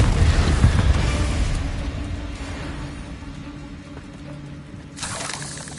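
A Confringo fire-blast spell exploding in Hogwarts Legacy, a loud deep boom with a rushing roar that slowly fades, followed by a brief fresh burst near the end.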